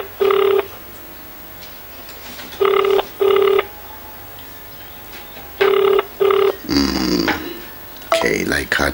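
Ringback tones of an outgoing phone call sound in clear double pulses about every three seconds, followed near the end by louder voices and noise as the ringing continues.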